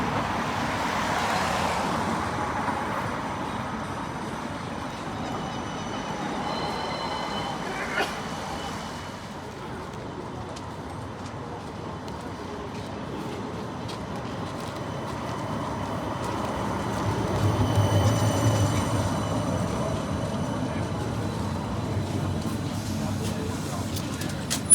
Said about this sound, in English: on this West Midlands Metro tram service heading towards Handsworth Booth Street